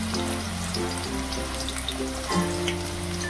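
Diced potato cubes sizzling in white oil in a pan, a steady close crackle running throughout with a low background hum and no talking.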